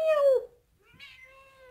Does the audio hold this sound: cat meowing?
yes